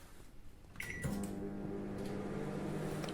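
A Samsung MG23K3515CK grill microwave oven starts with a short beep, then settles into a steady, low electrical hum and fan whir that continues quietly.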